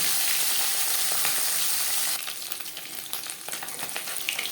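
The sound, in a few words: fish marinated with salt and turmeric frying in hot oil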